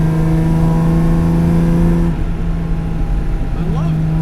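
A 1958 AC Aceca coupe engine idles with a deep, steady rumble, then eases off and picks back up into a smooth rev near the end.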